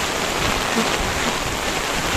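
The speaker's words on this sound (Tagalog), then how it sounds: "Napakalakas ng ulan." Heavy typhoon rain pours down on a street in a dense, unbroken roar that stays loud and even from start to finish.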